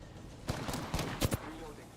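Gunfire in the Apex Legends video game, several short sharp shots in quick bursts, fairly faint and distant within a busy game mix.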